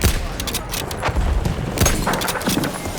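Grenade explosions and bursts of gunfire from a Battlefield 1 match thud and crackle in quick succession, loud and close. Players' voices talk over the combat.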